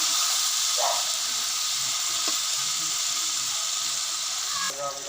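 Chicken and bhindi masala cooks in a pan with a steady, loud sizzle and hiss throughout, a few brief clinks of a utensil cutting in.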